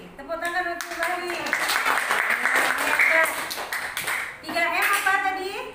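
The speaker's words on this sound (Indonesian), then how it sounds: "tepuk tangan untuk Pak Hadi" Clapping for a teacher rises in a classroom, a few seconds of brisk, scattered hand claps between and under spoken voices.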